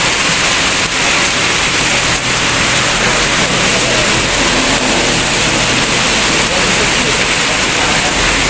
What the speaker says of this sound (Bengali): প্রচণ্ড বৃষ্টি, প্রচণ্ড বৃষ্টি।